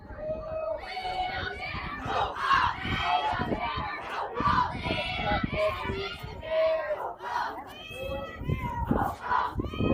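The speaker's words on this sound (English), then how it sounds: "Very strong cheering section there for the Winfield Wild" A youth baseball cheering section for the Winfield Wild 14U team shouts and cheers in a dense, close crowd of high, excited voices, rising and falling throughout with overlapping yells.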